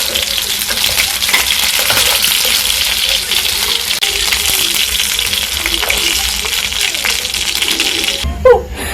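Meatballs fry in a pan, a loud continuous sizzle and crackle with occasional stirring clinks, ending in a brief knock near the close.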